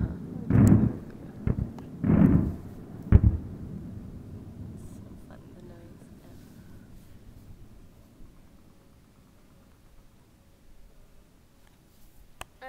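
Several loud booming bursts of fireworks go off close by in quick succession, then fade into a long quiet crackling tail.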